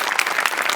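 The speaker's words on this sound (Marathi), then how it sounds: "तुझ्यासाठी स्पेशल टाळ्या" Brief burst of studio audience applause on a Marathi comedy show, loud dense clapping from many hands lasting under a second.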